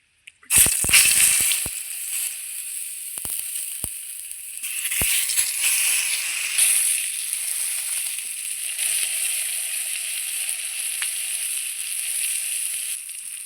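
Spice-coated eggplant slices dropped one by one into hot oil in a wok, a few sharp splats at the start giving way to a loud, steady sizzle that continues on its own.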